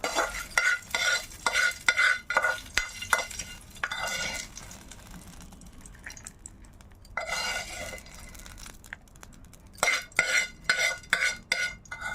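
A tempering for lentil chutney is stirred in a pan, with clattering spoon-on-metal strokes in rhythmic bursts over a faint frying sizzle, with quieter pauses between rounds of stirring.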